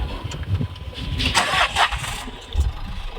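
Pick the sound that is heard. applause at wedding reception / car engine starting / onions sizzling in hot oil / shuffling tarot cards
car engine starting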